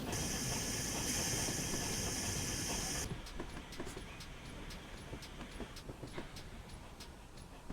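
Air brakes on a locomotive in Train Simulator Classic let out a loud, steady hiss for about three seconds, then cut off. Faint clicks and low cab rumble continue on their own afterwards, with no talk.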